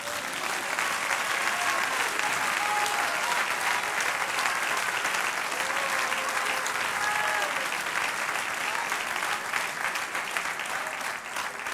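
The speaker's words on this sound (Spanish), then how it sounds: "Dale un aplauso al Señor." A church congregation claps together in sustained, dense applause that fills the room at a steady, loud level throughout, with no pauses.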